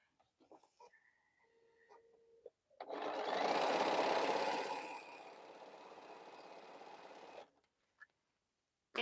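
A sewing machine stitching quilt pieces together: a quiet fumbling start, then a loud, fast, close mechanical whir that eases to a steadier hum before stopping, with no voices.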